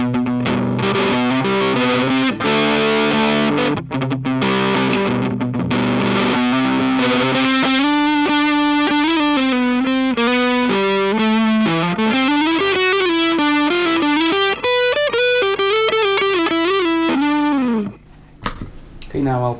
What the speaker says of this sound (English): And now the Ultra setting on the Keeley modified Boss DS-1.